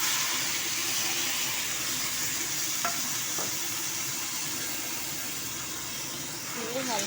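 Food fries in hot ghee in a kadai on a gas stove, a steady close sizzle and hiss with a few light stirring scrapes, while someone talks over it.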